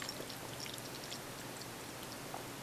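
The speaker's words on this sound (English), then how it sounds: "I'm going to pour some coffee here." Coffee is poured into a cup: a soft, steady, faint liquid splash lasting a couple of seconds, with no talking.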